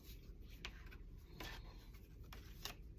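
A paper trimmer slicing through a sheet of paper in a few faint, brief scraping strokes spaced out over quiet room noise.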